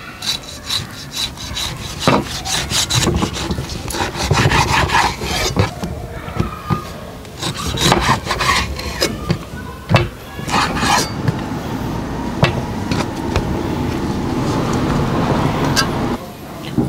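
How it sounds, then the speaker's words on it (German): A knife saws meat off the bone for plov, giving repeated close rasping and scraping strokes with knocks on a board, while traffic murmurs in the background. "Das Fleisch hier oben schneide ich ebenfalls ab."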